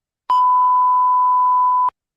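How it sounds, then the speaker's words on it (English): A single steady electronic beep sound effect, a clean pure tone lasting about a second and a half, loud and alone against silence with sharp onset and cutoff. "Can I still use the beep?"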